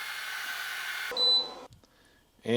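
An xTool F1 laser engraver makes passes over a silver coin at full power, giving a steady broadband buzzing hiss that stops abruptly, followed by a brief high beep, faint clicks and a short rising tone at the end.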